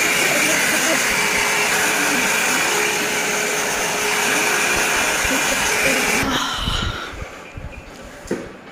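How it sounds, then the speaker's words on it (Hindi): A 2-in-1 hair dryer and straightener blows with a steady, loud broadband whoosh for about six seconds, then cuts off, leaving a few faint handling knocks. "ड्रायर प्लस स्ट्रेटनर जो कि 2-in-1 है। ऐसे करेंगे आप तो इससे बाल स्ट्रेट हो जाते हैं"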